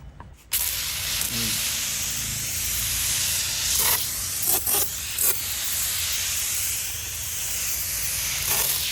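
A pressurized foam sprayer tank sprays foam in a steady, continuous hiss that runs with a few brief bursts and surges, loud and close.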